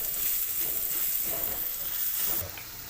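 Spices with turmeric powder are stirred in a hot pan, making a soft, continuous sizzle and hiss that eases off near the end.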